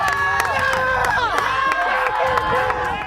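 A nearby group of SWAT team comrades cheers and shouts encouragement at a competition, with overlapping voices and yells forming a steady, lively crowd sound.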